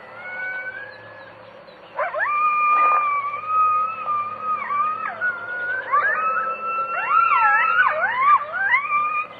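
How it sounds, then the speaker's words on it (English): Coyotes howl and yip at night in the Kofa Mountains of western Arizona, several overlapping wavering, rising and falling cries that build into a chorus, clear and fairly close. "it seems to be an even more appropriate night to be listening for the song of the coyote"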